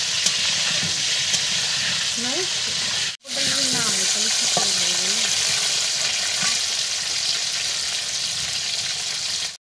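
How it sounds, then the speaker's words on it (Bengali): Potatoes fry slowly in a pan for a chicken dish, giving a steady close sizzle that cuts out for an instant partway through and then resumes, with faint tonal sounds drifting underneath. "আলুটা আস্তে আস্তে ভেজে নেবো"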